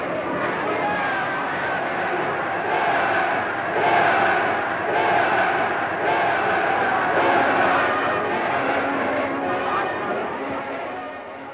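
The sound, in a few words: crowd cheering in archival footage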